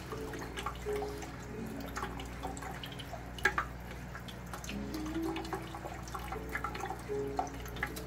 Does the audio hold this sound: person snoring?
no